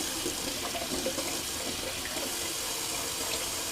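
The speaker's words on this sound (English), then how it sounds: "Just going to rinse off the Rex." A steady, close stream from a sink tap runs over a Rex razor as it is rinsed, with faint splashing shifts in the flow and no voices.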